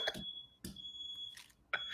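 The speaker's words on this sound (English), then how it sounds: "my smoke alarm's going off right now" A home smoke alarm sounds a piercing high electronic tone in short repeated beeps, fairly faint and distant, with bursts of speech breaking in between.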